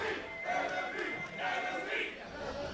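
Esports arena crowd at an NA LCS Summer 2015 match, TSM vs Enemy eSports, chanting team tri-codes in rhythmic swelling waves; a large, reverberant mass of voices rising and falling about every half second.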